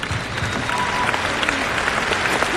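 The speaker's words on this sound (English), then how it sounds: "give a round of applause." A round of audience applause, dense and steady clapping from a crowd, with a few sharper individual claps standing out throughout.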